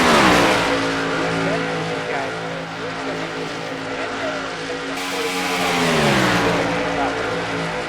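Race cars roar past on the oval at Auto Club during the Max Energy 176 heading to the white flag, engines loud and continuous with pitch sweeps as they pass, a commentator talking over the engine noise.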